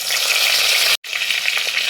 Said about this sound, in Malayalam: ഉലുവ അല്ലേ, കുറച്ച് ഉലുവ ഇട്ട് കൊടുക്കുന്നുണ്ട്. മൂത്ത് വന്നിട്ടുണ്ട്. അതിലേക്ക് കുറച്ച് കറിവേപ്പില.